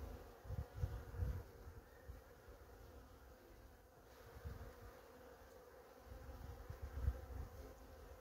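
A hungry, agitated honeybee colony being worked by a beekeeper gives a faint, continuous buzzing hum, broken by occasional soft low thumps and knocks from handling the hive.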